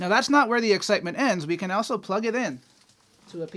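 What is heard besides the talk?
No everyday noises stand out.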